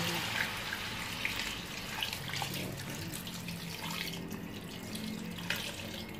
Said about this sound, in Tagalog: Lagyan na natin ng tubig para palambutin.